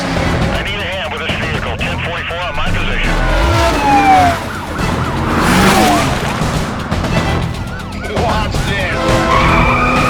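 A police siren wails over skidding tires and engine roar during a high-speed pursuit in the racing game Need for Speed Carbon, with radio chatter and voices speaking throughout the loud, continuous chase.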